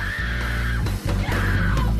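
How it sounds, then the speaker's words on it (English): An actress's recorded shrieks and moans for an animatronic prop: a sustained, wavering, high-pitched wail with brief dips and swells, loud and close and heard on its own. "An actress records the accompanying shrieks and moans."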